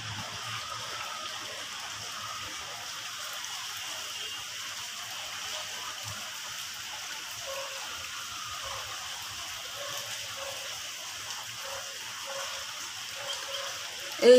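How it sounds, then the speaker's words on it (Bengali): Rain falls outside during flooding, a faint, even hiss of drops heard from a distance under a quiet, steady background, with a brief bump at the very end. "এই যে বৃষ্টি হচ্ছে আর নিচটা দেখাচ্ছি।"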